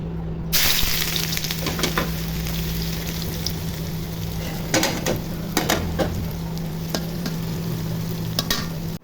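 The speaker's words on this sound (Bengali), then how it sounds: "তেল গরম হয়ে গেছে, এখন পেঁয়াজ কুচি দিয়ে দিব।" Chopped onion sizzles steadily in hot oil in a pan for deshi chicken curry, a continuous crackling fry starting abruptly after a moment of silence, with occasional stirring scrapes and clinks.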